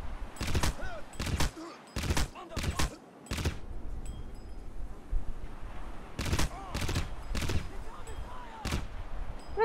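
Gunfire in the shooter game Crysis: four quick close bursts of shots, a quieter stretch, then four more loud bursts, over steady game background noise.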